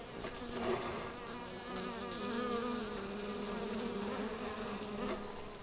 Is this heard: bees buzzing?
yes